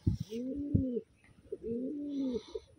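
A pigeon gives two soft rolling coos, close and faint, separated by a short pause, with light rustling in the background.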